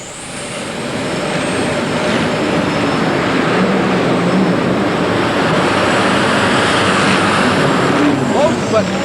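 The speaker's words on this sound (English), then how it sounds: "those twin Lycoming T55 turbines leave the Dragon Lady and Dusty Arfons just a little bit short of the full pull mark" Turbine-powered modified pulling tractor with twin Lycoming T55 turbines making a full pull attempt in an indoor arena, a loud sustained roaring whine with crowd noise, under an announcer's commentary.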